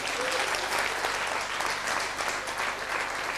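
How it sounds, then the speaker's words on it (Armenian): An audience at an anniversary celebration applauds an actress, dense continuous clapping from a full hall, loud and even throughout. "ծափահարենք Տիկին Բելային"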